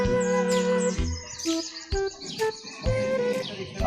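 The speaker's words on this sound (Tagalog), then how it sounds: "tawag ng Sexy ko" Bird chirps and whistled calls repeating close by, with a few sharp clicks and shifting tones over a steady background.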